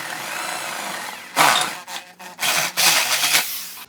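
A drill with a flat spade bit boring through wood while a breakfast tray is being made, giving rough rasping bursts that stop and start in short runs, close and loud, with no talking.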